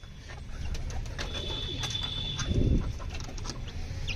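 Domestic pigeons being let out in the evening coo softly amid outdoor background noise, with a low, throaty burst near the middle.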